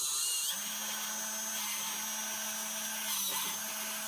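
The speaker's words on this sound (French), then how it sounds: "j'ai mon assistant qui va mettre en route le vérin" A homemade actuator built around a drill bit and converted to servo-motor drive runs with a steady, close mechanical whine and motor hum that holds for several seconds, level and continuous.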